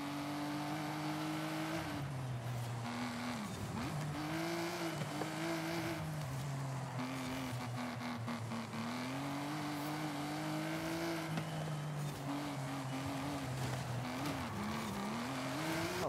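A 2019 Aston Martin DBS Superleggera in Forza Horizon 5 runs in a steady, close engine drone on a beach course, its pitch rising and falling through revs and gear changes, with occasional tire scrub and no talking.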